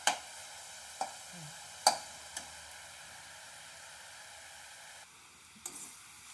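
Pumpkin leaves and prawns fry in a pan, a soft steady sizzle broken by a few sharp utensil clicks and stirring scrapes.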